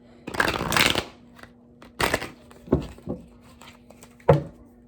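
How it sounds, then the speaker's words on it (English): Cards are shuffled in several quick bursts of riffling and flicking, close and crisp, with short pauses between. "I shuffle these every time I get done using them."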